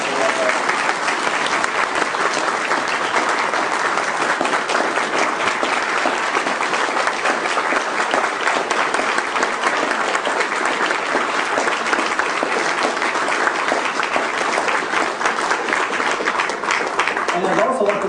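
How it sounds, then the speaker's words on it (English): Dense, sustained audience applause fills a libertarian presidential debate hall at a conference, loud and even clapping from many hands continuing without a break. "So let's give them a round of applause."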